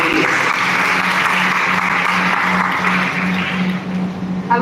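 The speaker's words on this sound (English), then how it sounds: "Can we please have a huge round of applause for our judges and chief guests?" Sustained applause from an audience at a school event, welcoming judges and chief guests. The clapping forms a loud, even wash of many hands that lasts throughout, with a low steady hum beneath it.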